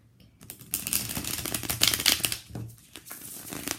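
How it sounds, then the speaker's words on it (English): Tarot cards being shuffled by hand, a quick papery riffling and flicking burst that swells and fades, close and fairly loud with no talking. "I think I need to shuffle one more time."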